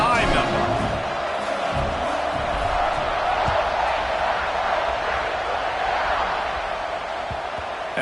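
A football stadium crowd just before kickoff keeps up a loud, continuous roar, with a broadcast commentator talking over it.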